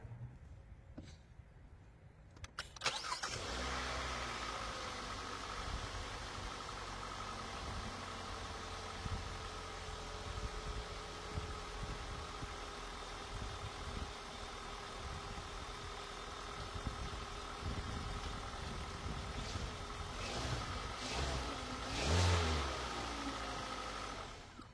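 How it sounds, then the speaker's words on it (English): A 2019 Hyundai Elantra SE engine cranks briefly, catches and settles into a steady idle, heard close and evenly for over twenty seconds with a slight rise in revs near the end. "Let's start the engine."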